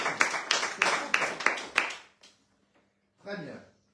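A small studio group on a French radio bistro show gives a brief burst of about six sharp, close hand claps that stop abruptly. After a short silence, a voice speaks.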